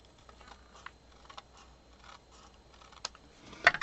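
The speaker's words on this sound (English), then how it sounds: "I'm just going to trim that off." Scissors trim a strip of scrap paper, a few quiet snips followed by one sharper, louder cut near the end, in an otherwise hushed room.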